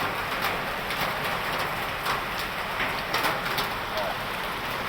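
Morning rain in Suphan Buri falls steadily onto surfaces, a dense even hiss with scattered sharper drops, continuous and fairly close, with no voices.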